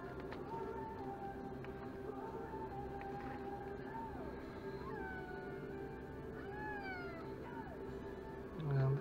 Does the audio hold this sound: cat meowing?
yes